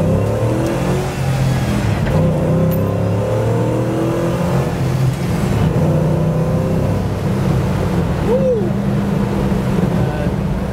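A 2WD Scout Terra with an LS engine swap drives along, its loud V8 rumble steady and close with a rev rising near the end, under wind and road noise.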